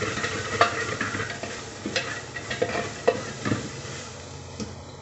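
Chopped onion sizzling and frying in a little oil inside a pressure cooker over the heat, with a steady crackling hiss broken by a few sharper pops and stirring scrapes.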